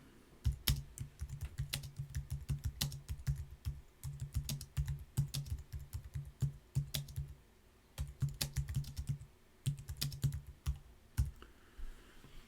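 Rapid typing on a computer keyboard, close up, in quick bursts of clacking keys with brief pauses between runs.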